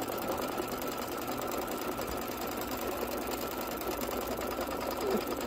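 A sewing machine stitches continuously while embroidering a Kimberbell Halloween pillow, giving a steady, fast mechanical whir and rapid needle clatter that holds an even level throughout.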